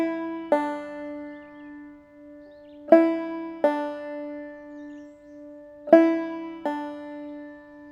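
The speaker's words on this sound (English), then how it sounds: "Today we'll be adding a new technique called a pull-off," Clawhammer banjo demonstrating the pull-off technique: three paired plucked notes, each a sharp attack followed by a softer pulled-off note, ringing clearly and alone at moderate volume.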